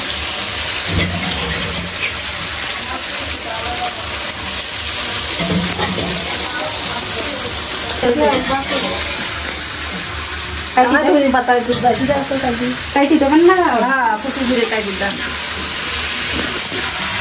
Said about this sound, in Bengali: লাস্ট মশলা টসলা কষায় এখন আলুটা দিয়ে দিচ্ছে